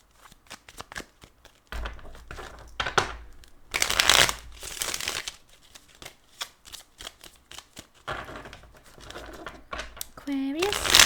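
Repeated bursts of tarot cards being shuffled and riffled, close and crisp, with a person talking in between.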